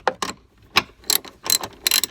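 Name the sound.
socket wrench ratcheting a 13mm bolt on a Jeep Wrangler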